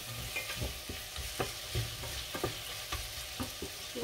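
A spiced mixture seasoned with salt, pepper and sweet paprika simmers and sizzles steadily in a pot, with scattered soft clicks and scrapes from stirring, close and fairly quiet, with no voices.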